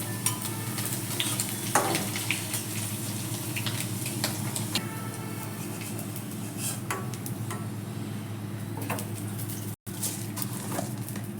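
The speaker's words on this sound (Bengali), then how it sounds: "এবার চিংড়ি মাছটা একটু ভেজে নেব।" Shrimp frying in oil in a wok, giving a continuous moderate sizzle with scattered pops and occasional stirring scrapes, broken by one brief dropout near the end.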